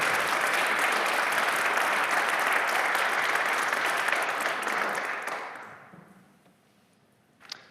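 Audience applause welcoming speaker Dave Robison at an evening talk in Minnesota, a steady, dense clapping from a full room that holds for about five seconds, then tapers off into near silence.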